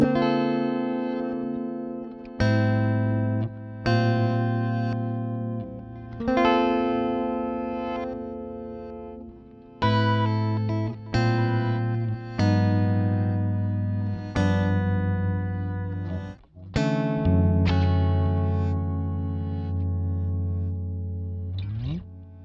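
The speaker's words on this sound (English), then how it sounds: "this is going to take the original effect and it's going to send it back to front" Heavily processed guitar chords with swelling, backward-sounding attacks that fade in and cut off abruptly, repeating in phrases, loud and effect-laden with no talking.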